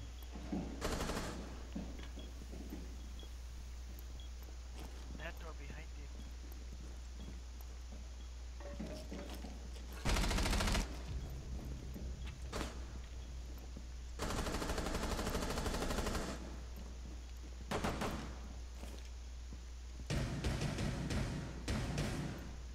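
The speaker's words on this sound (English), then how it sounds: "Are they shooting into second floor?" Automatic gunfire in Rainbow Six Siege during a house team deathmatch: several loud, sustained bursts of shooting at different moments, with quieter stretches between them and a steady low hum underneath.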